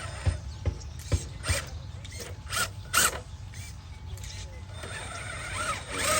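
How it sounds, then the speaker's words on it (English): An RC rock crawler's servo whines and ratchets in short mechanical bursts with clicks and gear buzz, close and fairly loud, while people talk over it. "there's a lot of servo noise coming out of there."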